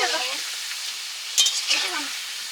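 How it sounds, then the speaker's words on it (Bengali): Potatoes for a meat curry fry in a pan, a close hissing sizzle that softens over time, broken by a couple of sharper stirring scrapes. "আমি ওই মাংসের আলুটা ভেজে নিচ্ছি"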